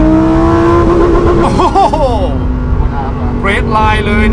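A Lamborghini STO's engine revs hard toward redline, a loud, rising mechanical howl up close, with people talking over it.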